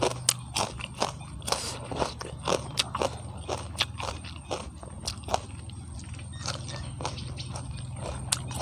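Someone eating very spicy Thai papaya salad (som tam) loaded with fifty chilies, alongside rice noodles, with steady close crunching, biting and chewing clicks over a constant low background hum and no talking.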